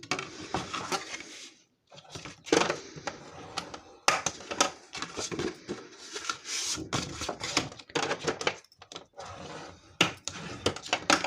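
Paper is folded and creased by hand to make a mini album card, heard as close, irregular rustles, taps and scraping bursts separated by short pauses, with no talking.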